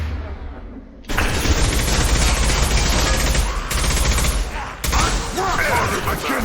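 Heavy, sustained gunfire from the video game Mass Effect 2, a loud dense fusillade of rapid shots and booms that bursts in after a quieter opening and runs almost continuously, with a brief break near the end before resuming.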